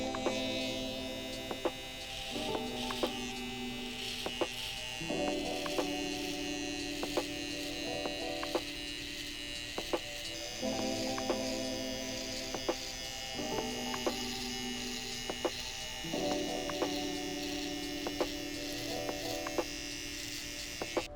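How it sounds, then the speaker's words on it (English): Electric hair trimmers buzz steadily while cutting a low drop fade, their drone shifting pitch in repeated cycles as the blades move against hair, with faint clicks throughout and no talk. "for the first step, we'll be using the trimmers and starting our initial guideline"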